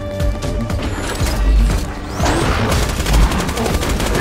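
Turret deploying and opening fire in Borderlands 2, a dense mechanical clatter of whirring gears and ratcheting parts with rapid bursts of gunfire and booms, loud and continuous throughout.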